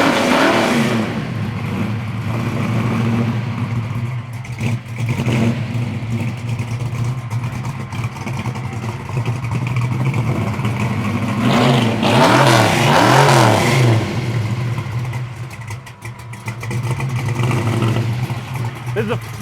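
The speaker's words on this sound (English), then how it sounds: "Great sounding exhaust system." A 1971 Chevy Camaro with a fresh carburetor revs loudly through its exhaust, a deep rumbling idle swelling into several throttle blips that rise and fall, close and strong throughout.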